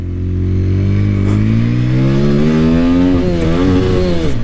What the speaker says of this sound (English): Right foot on the throttle. Revving the motor.